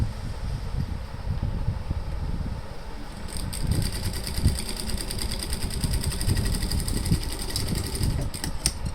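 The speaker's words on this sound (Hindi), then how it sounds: "इसको हम दोनों तरफ से ऐसे सिलाई लगाएंगे इस तरह।" A sewing machine steadily stitching both sides of a folded fabric loop, a fine rapid mechanical chatter with a low motor hum, close and fairly quiet, no voices.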